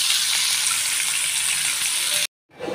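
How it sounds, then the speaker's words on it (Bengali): Tilapia frying in oil: a dense, loud, constant sizzling hiss that runs unbroken, then cuts out abruptly and returns faintly at the very end. "একে একে আমি মাছগুলো ভেজে নিচ্ছি"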